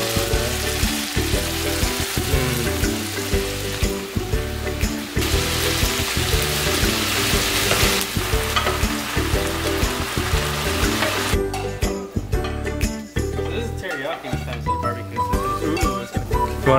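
Pieces of marinated meat fry in a pan with a loud, constant sizzle, heard under music throughout.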